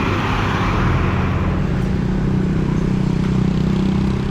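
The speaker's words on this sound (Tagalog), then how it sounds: "Oh, may mga truck." Heavy trucks roll past on a highway in Cam Sur, a dense, loud, continuous roar of engines and tyres close by with no break in the traffic noise.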